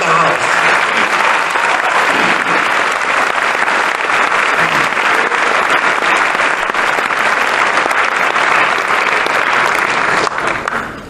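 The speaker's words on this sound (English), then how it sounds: "I want us to give a big applause for them because they are in the house." An audience applauds Freedom Summer veterans present in the house, a loud, continuous burst of many hands clapping close by that holds steady for about ten seconds before tapering off at the very end.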